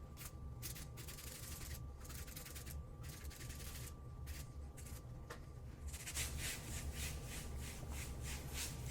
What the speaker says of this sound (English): spray it on the door panel and then use my detail factory brush to go ahead and agitate